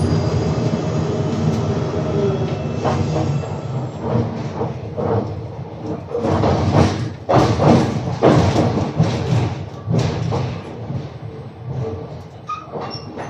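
Loud, close rumble inside a moving Riyadh Metro train, with rolling wheels, clunks and thuds over the track and faint wheel squeal.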